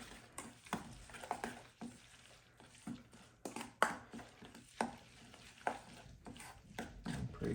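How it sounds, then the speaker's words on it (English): A choripan filling mixed with red pepper: soft, irregular scraping and stirring strokes with occasional sharper taps against the bowl, quiet and close with no voices. "Mix that up some more and see how it's looking."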